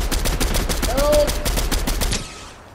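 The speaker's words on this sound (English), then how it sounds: "Oh, I'm being shot at." Video game battle gunfire rattles in a rapid, steady stream of loud close shots, with a brief voice over the barrage before the firing stops abruptly.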